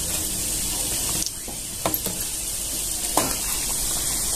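Wheat-flour dough pieces frying in oil on low heat give a steady soft sizzle, with a few light clinks and stirring scrapes near the beginning and middle.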